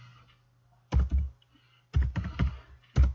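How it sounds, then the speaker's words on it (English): Keystrokes clatter on a computer keyboard in short bursts, a brief flurry, a pause, then a longer run of quick taps and a final stroke, close and clear with no talking. "John, you can tell I'm not used to this keyboard"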